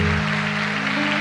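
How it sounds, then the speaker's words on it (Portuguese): Church congregation applauding together during a Catholic Mass, a dense, steady wash of clapping over sustained organ or keyboard tones, with no voices speaking. "Vamos aplaudir a palavra de Deus."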